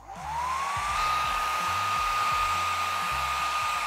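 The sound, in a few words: hair dryer heating a camera skin for removal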